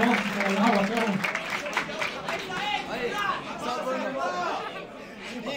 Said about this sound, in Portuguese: da Caru aí, representante do Ceará Nacional, uma salva de palmas aí também, tá certo?